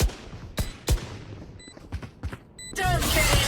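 Gunfire in a Valorant match: several sharp, separated shots crack out in an uneven rhythm over the first two and a half seconds, then a denser burst of firing and game effects fills the end.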